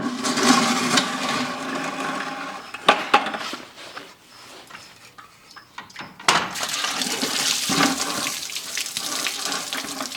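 Coolant pours out of a Jeep 4.0L radiator into a bucket, a steady rushing gush that dips briefly midway and then surges back loud and close.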